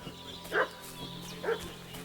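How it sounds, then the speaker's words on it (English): A dog in the medieval world of Kingdom Come Deliverance 2 gives two short, moderately loud barks about a second apart over a low ambient hum. "What's that dog making such a fuss about?"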